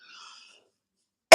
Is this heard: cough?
yes